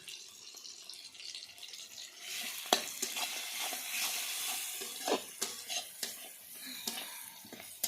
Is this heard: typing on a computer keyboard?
no